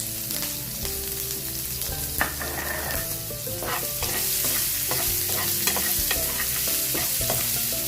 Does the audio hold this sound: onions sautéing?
yes